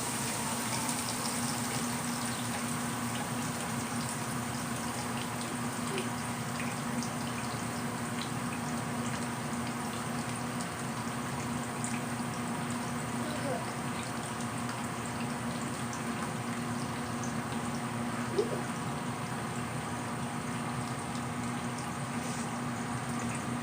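Water draining from a running Nina Soft spin dryer after spinning wool, heard as a continuous trickling, splashing flow under a steady motor hum, with a few faint drips and clicks.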